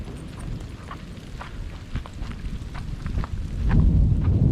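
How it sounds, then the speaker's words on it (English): Rolling thunder rumbles during a rainstorm on a hike, a deep, building roar that swells louder toward the end, mixed with wind noise and with no talking. "That was some of the loudest thunder I've heard."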